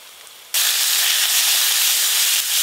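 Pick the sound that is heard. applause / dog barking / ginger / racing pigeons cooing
ginger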